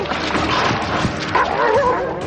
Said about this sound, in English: herself owns one of these troubled animals, her dog Jody.